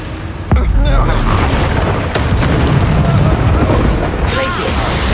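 A Bombarda explosion spell in a video game lands as a sudden loud boom, followed by a dense, continuous rumble of blasts and crashes that fills the rest of the moment.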